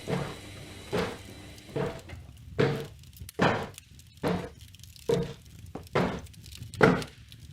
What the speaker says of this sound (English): Apparently there was a bucket slapping up against the clothes washer down there.